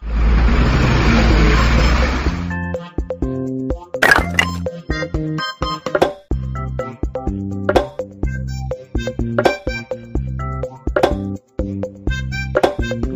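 A double-decker bus engine rumbles loudly for a couple of seconds with a low, broad roar, then gives way to a bright, bouncy children's tune with plucked notes and percussive hits.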